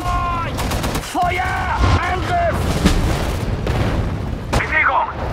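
Dense gunfire and heavy explosions from the World War II strategy game Sudden Strike 4, set in the Battle of Stalingrad, boom and crackle continuously and loudly, with German voice commands shouted over the battle.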